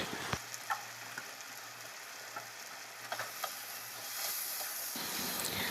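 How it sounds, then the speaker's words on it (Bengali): Potato pieces fry in oil with salt and turmeric, giving a continuous soft sizzle broken by a few sharp pops and clinks, fairly close and without speech. "আলুটাকে আমি ভেজে নেব নুন হলুদ দিয়ে"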